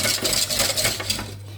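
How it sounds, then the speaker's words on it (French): A saucepan shifted about on a stovetop burner, giving soft metallic scrapes and light clinks over a steady low hum, fairly quiet and with no talk. "moi je mets toujours ma casserole en mouvement, je la laisse pas au même endroit sur le feu."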